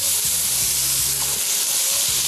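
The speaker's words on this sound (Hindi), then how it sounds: "गाजर, ये आ गया बेबी कॉर्न, और तेज़ आंच पे इसको थोड़ा सा किया फ्राई" Carrot and baby corn stir-frying over high heat give a steady, loud sizzle, broken by rhythmic low scraping strokes as the vegetables are tossed in the pan.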